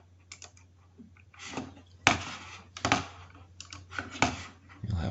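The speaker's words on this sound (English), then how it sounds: "You'll have to excuse my clicking as I'm copying down the attendance list here" Computer keyboard keys clatter in quick, uneven bursts of typing and clicking while an attendance list is copied during an online training session, close and fairly clear, with pauses between runs of keystrokes.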